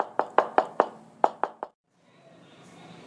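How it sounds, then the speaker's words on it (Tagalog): A door is rapped seven times in quick, evenly spaced knocks, close and crisp, then the sound drops to quiet room tone. "may kumatok sa kanyang pintuan."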